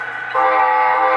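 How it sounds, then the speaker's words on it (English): An Amtrak locomotive on an HO scale DCC model train layout gives a loud, close, sustained horn-like tone that swells abruptly and stays steady without pause. "That's the Amtrak engine."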